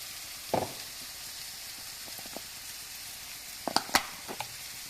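Onions frying in a pan with salt, giving a steady soft sizzle throughout, broken by a few sharp stirring scrapes and clicks near the end.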